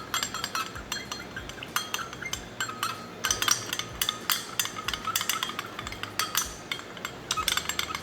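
Bait ingredients being stirred and mixed in a container for homemade fishing bait, giving steady scraping clinks and knocks that keep going throughout at close range, with no talking.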